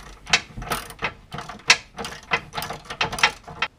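Ratchet wrench loosening the differential bracket bolts on a Subaru, a close, steady run of sharp clicking bursts repeating roughly every half second with no talk.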